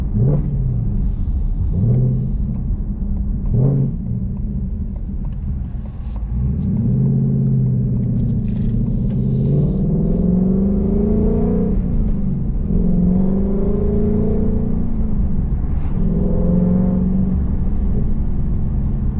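Race red Ford Mustang Mach 1 in sport mode with resonator delete and MBRP X-pipe, a steady deep exhaust rumble that swells with acceleration and drops between shifts, loud and continuous throughout.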